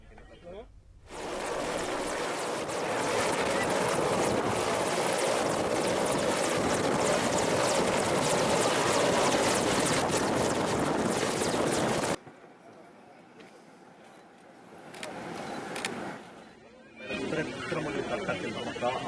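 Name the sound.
helicopter landing on a helipad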